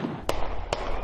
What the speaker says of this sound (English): There are gunshots coming from the crowd.